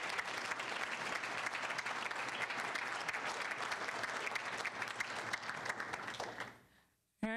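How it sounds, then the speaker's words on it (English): An audience at an induction convocation ceremony gives a long round of dense, steady applause that fades out near the end, followed by a voice starting to speak. "can we get another round of applause for everyone?"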